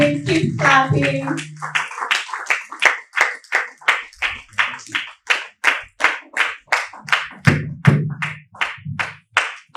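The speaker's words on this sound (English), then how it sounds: "Please keep clapping, keep clapping." An audience at a law business conference claps in a steady, rhythmic unison beat, loud and close, after a brief burst of mixed applause and noise at the start.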